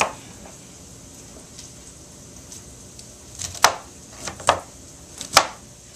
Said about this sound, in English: I've got my cauliflower chopped